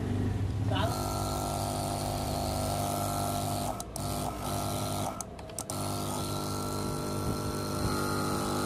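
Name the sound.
repaired AC-DC gas compressor motor running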